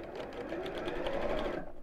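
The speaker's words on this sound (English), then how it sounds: "Just sew over those ends. Not across the long bits, just across the short bits." A sewing machine stitches across the short fabric ends of a drawstring pyjama bag, giving a steady, close whirring hum that runs unbroken and evenly for the full stretch.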